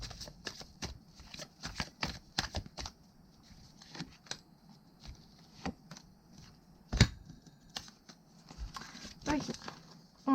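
A deck of cards is handled and shuffled close up, with quick bursts of riffling and soft slaps scattered across the clip, irregular and fairly quiet.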